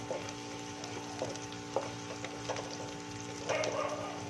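Onions softening in a pan for a potato samosa filling give a low, steady sizzle with occasional stirring scrapes, faint and close under a constant background hum.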